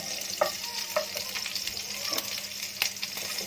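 Cumin seeds hit hot oil in a home kitchen pan, giving a bright crackling sizzle with a few sharp pops and stirring scrapes, close and continuous for a few seconds.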